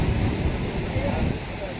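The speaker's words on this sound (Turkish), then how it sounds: "Orada bir sürü dalgalar çıkıyor arkadaşlar." Sea surf rolls onto the shore at Akçakoca on the Black Sea coast, a steady broadband wash with wind buffeting the microphone and faint voices underneath.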